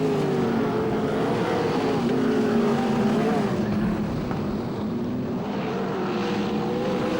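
Sprint cars racing at Parramatta City Raceway, a dirt track, produce a steady loud engine roar that holds throughout with shifting tones, partly under a race commentator's voice.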